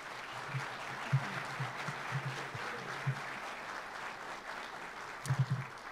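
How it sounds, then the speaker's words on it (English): At a police chief swearing-in ceremony, the audience applauds a high school senior who just sang the national anthem: a soft, distant, steady patter of many hands, with a few low thumps along the way. "I would really love to give a big round of applause"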